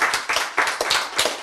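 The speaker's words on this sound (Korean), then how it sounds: "박수" A crowd claps in a health lecture hall, a burst of close, loud handclaps falling into a rough rhythmic beat, about six strong pulses in quick succession.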